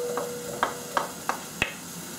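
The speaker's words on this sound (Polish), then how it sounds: "Do garnka wrzucam śliweczki." Chopped plums are dropped into a pot in a home kitchen, giving four soft, separate plops and taps at roughly even intervals over a faint steady hiss.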